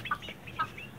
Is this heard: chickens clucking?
yes